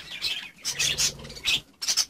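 Budgerigars chirp in quick bursts of bright, high tweets while bathing, several short calls in a row separated by brief pauses, close and fairly loud.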